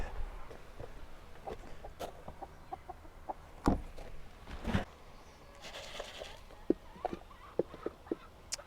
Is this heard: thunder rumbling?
no